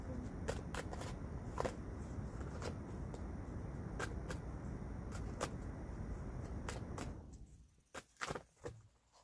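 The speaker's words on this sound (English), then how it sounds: "So I'm going to go ahead and shuffle this deck." Cards are riffled and shuffled close up in quick, crisp bursts over a steady background rumble, ending with a few distinct taps.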